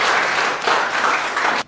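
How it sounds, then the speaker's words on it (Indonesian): Classmates applaud a fellow student in a school classroom, a short, dense burst of clapping from many hands that cuts off abruptly at the end. "tepuk tangan untuk teman kita"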